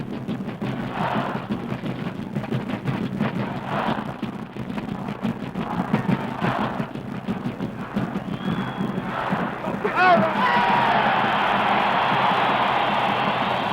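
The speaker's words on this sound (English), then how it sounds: "the cheer from Michigan State Rooters" Michigan State rooters cheering at a 1966 college football game against Notre Dame, a sustained roar of a large outdoor crowd with a swell near the end, a commentator's voice audible at moments.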